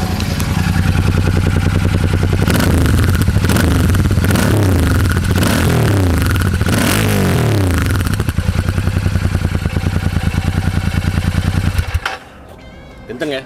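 Royal Enfield Super Meteor 650 with its stock exhaust, revving loudly up close with a steady throbbing idle and repeated throttle blips, ending abruptly near the end.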